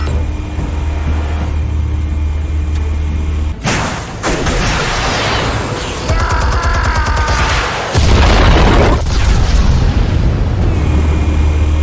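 Explosives detonate in Batman: The Telltale Series, a sudden loud blast erupting out of a low ambient hum, followed by a roaring, crackling wash of debris and a second heavy rumbling surge near the end.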